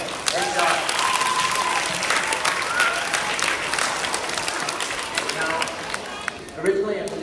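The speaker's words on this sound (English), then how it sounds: "give a big round of applause for our performers today" Steady clapping from a school audience at an upper primary assembly, applauding the performers in a dense, continuous patter with a few voices calling out near the end.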